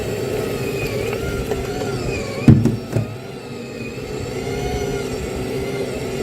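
A portable washing machine's spin motor whirs steadily at a moderate level, with a couple of brief knocks partway through.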